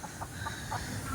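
Chickens cluck faintly in a yard, a few soft, scattered calls under steady outdoor background noise.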